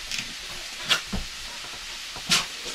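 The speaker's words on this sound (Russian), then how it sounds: "это она жарит на сковородке" Roe deer liver fries in a pan, a soft steady sizzle and hiss with a few brief louder bursts as it is stirred, no speech.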